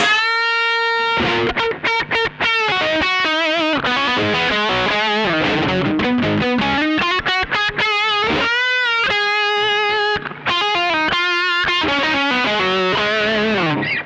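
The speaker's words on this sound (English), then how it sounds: "A really blistering lead sound." A searing electric guitar lead through Caline overdrive and distortion pedals plays fast, bending, singing notes with heavy distortion, loud and up front, with no voices.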